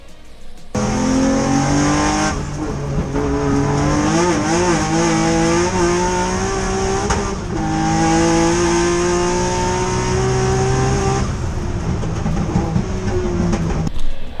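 Group A HKS Nissan Skyline R32 GTR racing at Goodwood Festival of Speed, its engine roaring loud and close through repeated rising revs and gear changes, with brief tire squeal and no voices.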